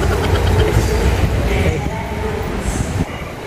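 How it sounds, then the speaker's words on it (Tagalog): Loud rumbling train passing close by with rail clatter and a faint wheel squeal, a dense continuous roar through the whole stretch, heard in a busy public station setting. "Yung train, yan."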